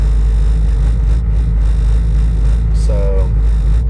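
A 416 stroker engine with a supercharger idling in drive with the foot on the brake, giving a loud, steady low rumble and vibration heard from inside the car.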